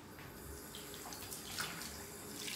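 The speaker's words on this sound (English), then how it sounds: "So let's fill the tub." A tap runs into a tub, filling it with water in a faint, continuous rushing splash that holds steady throughout.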